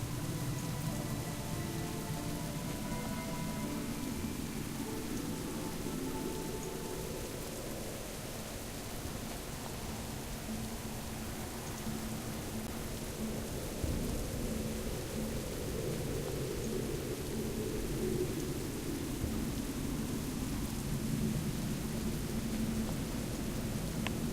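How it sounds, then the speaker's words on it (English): Steady rain falling in the dark forest of Duskwood in World of Warcraft, a continuous dense hiss with low rumbling underneath, constant in level throughout with no voices. "when it does rain like this, at least we have a little bit of shelter to keep us dry"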